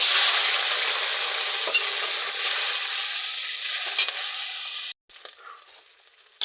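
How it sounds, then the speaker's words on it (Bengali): Prawns sizzle steadily in hot oil in a pan while being stirred, a loud continuous hiss with occasional scrapes, dropping off near the end to quieter intermittent crackle. "আবার চিংড়ি মাছটা ভেজে নেব"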